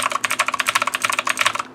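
Keys clack rapidly on a mechanical keyboard with no O-rings fitted, a close, dense run of sharp, crisp keystrokes heard alone.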